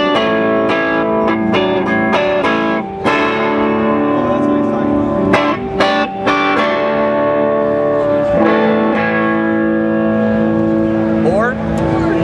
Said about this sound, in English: If you open up the master volume, you can get a nice clean tone.